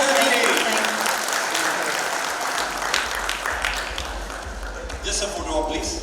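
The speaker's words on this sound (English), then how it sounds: "big round of applause for Rani Mukerji" An audience at the Ficci Frames 2024 event applauds Rani Mukerji, a loud, dense wash of clapping that stays strong and then eases slightly, with voices and low rumble mixed in.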